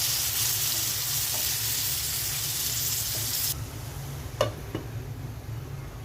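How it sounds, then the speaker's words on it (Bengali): Water poured into a pot of cooking beef in a home kitchen, giving a steady close hiss and sizzle that drops sharply partway through, followed by a couple of clinks and quieter bubbling. "মাংসের মধ্যে এখন পানি দিয়ে দিচ্ছি।"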